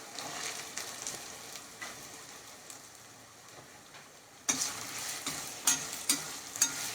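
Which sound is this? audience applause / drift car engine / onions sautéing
onions sautéing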